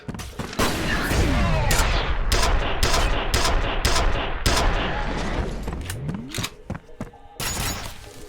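Gunfire in the video game F.E.A.R. comes in loud, rapid fusillades and repeated bursts with sharp impacts, while someone talks excitedly over the shooting.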